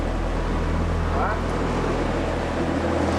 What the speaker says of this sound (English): I heard the roar of a boat again.